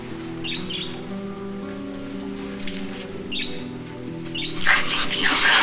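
Birds sing outside a house in a 1992 horror ghost film, with repeated short chirps and thin high whistles over a soft steady background hum, fairly close and without talking.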